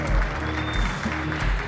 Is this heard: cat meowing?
no